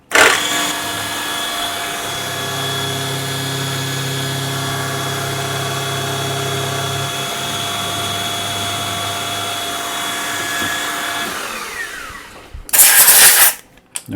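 A benchtop belt grinder runs steadily while a metal part is chamfered around its end, a constant whirring hum with a heavier grinding stretch in the middle, then the motor winds down and a short burst of clatter follows.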